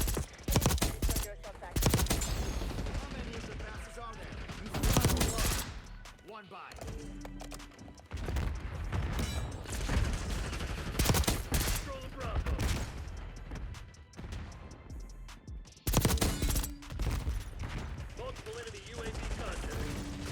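Rapid bursts from an AEK-973 burst rifle crackle through a Black Ops 6 multiplayer match, mixed with other gunfire and game effects. A player talks excitedly over much of the action.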